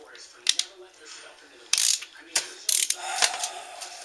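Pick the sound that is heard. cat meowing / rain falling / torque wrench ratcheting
torque wrench ratcheting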